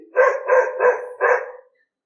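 A dog barks four times in quick succession, loud and close, the barks evenly spaced before falling silent.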